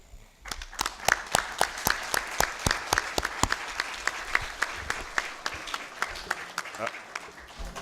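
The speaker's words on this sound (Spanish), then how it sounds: "Y un aplauso por ustedes." Audience applause during a talk in Spanish thanking Mexico, a steady crowd of clapping with sharp individual claps standing out near the microphone, continuing for several seconds.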